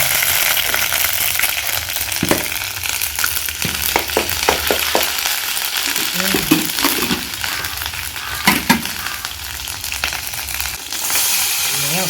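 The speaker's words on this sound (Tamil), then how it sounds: "எண்ணெய் காஞ்ச உடனே கொஞ்சோண்டு இஞ்சி பேஸ்ட்டு போடணும்" Ginger paste frying loudly in hot groundnut oil, a dense close crackle and hiss with occasional sharper pops and scrapes, sustained and unbroken, nobody talking.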